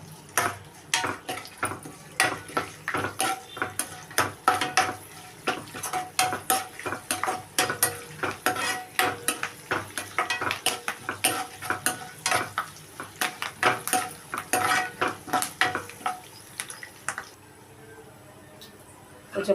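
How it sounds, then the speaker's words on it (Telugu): Tempering seeds, curry leaves and dried chilli fry in hot oil for yogurt chutney, with crackling pops and a steady sizzle broken by rapid spoon clatter against the pan, ending quieter. "కాగుతున్నప్పుడే తాలింపు గింజలు వేసుకొని కరివేపాకు, కొంచెం ఎండుమిరపకాయ"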